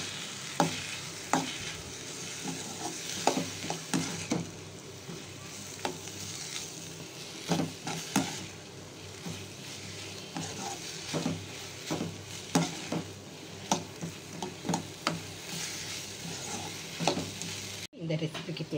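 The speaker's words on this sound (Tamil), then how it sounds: "தக்காளியை போட்டு நல்லா வதக்கிக்கலாங்க" Tomatoes and onions sautéing in a pan for banana stem gravy, a steady sizzle under repeated rhythmic scrapes and clinks of a spoon against the pan, with a brief voice at times.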